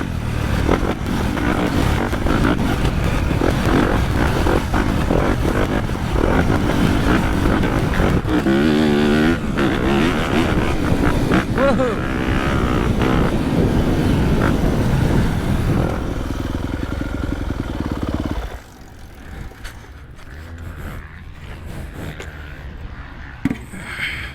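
A Yamaha YZ250F motocross bike rides on trails, its engine buzzing and revving hard with rising and falling pitch and clattering for about eighteen seconds, then dropping to a quieter, more distant putter.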